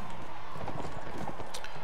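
Horse hooves galloping in the medieval combat game Mount & Blade Warband, a steady rapid clip-clop running continuously with faint game ambience and a voice murmuring lightly underneath.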